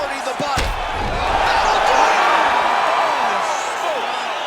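An arena crowd roars and cheers in the UFC 5 video game as a fight ends, a dense, steady wall of noise lasting throughout with a sharp slam near the start and a voice talking over it.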